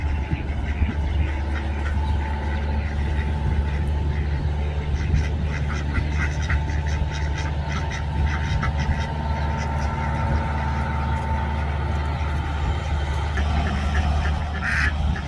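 Ducks quack steadily in a noisy outdoor farm scene, a busy flock calling over constant background rumble with no talking.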